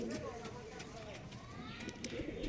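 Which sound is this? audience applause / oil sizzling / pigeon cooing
pigeon cooing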